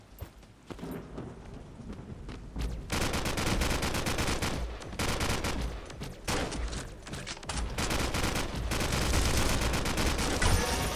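AK rifle fire in the battle royale game Skillshot City crackles in dense, rapid bursts, loud and near, building into nearly continuous shooting after a few quieter shots at the start.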